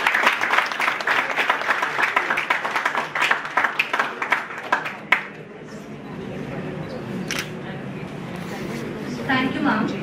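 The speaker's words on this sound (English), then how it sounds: "Guys, please give a round of applause." Audience applause at a college alumni forum installation ceremony, a dense burst of clapping for about five seconds that fades into room murmur and voices.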